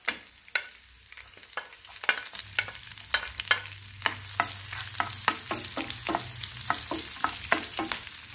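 Egg manchurian fries in hot oil while being stirred: a constant sizzle with frequent sharp scraping and clinking strokes of the spoon against the pan, close up and with no talking.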